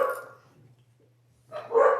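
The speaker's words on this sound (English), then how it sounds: "Oh, sorry for the working dogs." Working dogs bark in two short bursts, the first fading quickly and the second louder, separated by near silence over a faint steady low hum.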